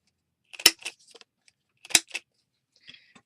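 Scissors trimming the edge of a paper tag, two crisp close snips about a second apart, each followed by small rustles and ticks of paper.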